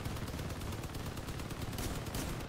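Machine guns firing continuously in the vehicle combat game Crossout, a dense, loud, rapid stream of shots with steady rhythm throughout and no talking.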